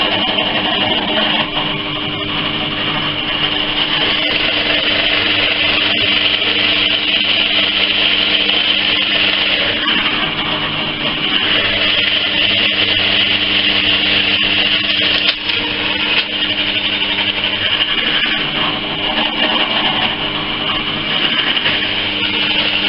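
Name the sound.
drilling a 28mm hole with a Forstner bit on a lathe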